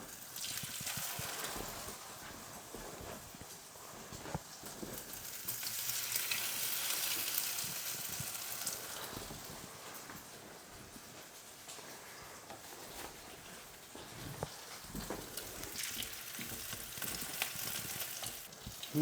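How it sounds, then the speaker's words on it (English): Hash browns frying in olive oil with melting cheese, giving a steady close sizzle and crackle that swells and eases across the whole stretch, with no talking. "I do like frying in olive oil."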